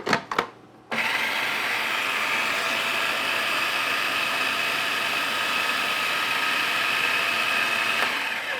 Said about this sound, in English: So I'm going to go ahead and put this right in the food processor.